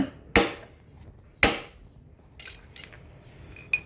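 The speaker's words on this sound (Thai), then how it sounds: "เดี๋ยวผมจะใช้ลูกบล็อกเบอร์22 นะครับ ทำการล็อกเลยนะครับ ตอกเข้าไปนะครับ" A hammer strikes a size 22 socket to drive a new bushing-type bearing into an electric fan motor housing: two loud metallic blows about a second apart, then several lighter, quicker taps, with no talking.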